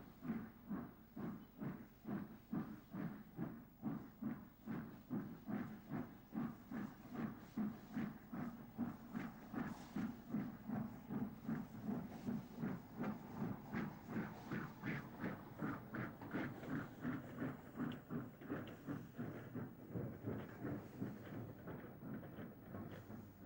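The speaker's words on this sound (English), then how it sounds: "this is the locomotive Flying Scotsman" The LNER steam locomotive Flying Scotsman runs on the Cumbrian coast with a steady, fast, even chuffing beat and a soft hiss, heard faintly from a distance and without pause.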